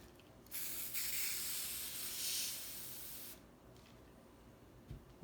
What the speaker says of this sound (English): Spray some spray starch.